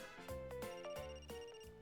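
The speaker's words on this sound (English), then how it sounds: "Phone's ringing." Phone ringtone in the video game Another Code: Recollection, a bright repeating electronic melody of short tonal notes in a steady rhythm, clear and alone with no voices.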